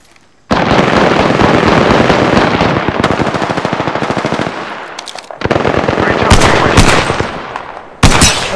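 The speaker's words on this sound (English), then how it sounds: "Opening fire." Automatic weapon fire in the battle royale shooter Apex Legends, loud rapid bursts that start abruptly and stutter on and off with short pauses, ending in a sharp final burst.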